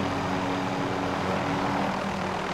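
Helicopter flying in the Call of Duty Warzone video game, a steady, loud engine and rotor drone that holds evenly throughout with a constant low hum and no talk.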